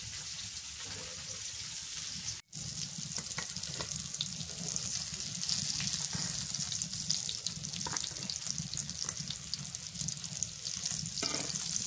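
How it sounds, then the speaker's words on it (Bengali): Hilsa fish frying in oil in a home kitchen pan, a steady close sizzle and crackle that runs throughout, broken once by a brief sharp knock early on. "মাছ ভাজি হয়ে গেছে, নামায় নি।"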